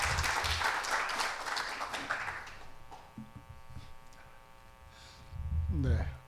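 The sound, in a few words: audience applause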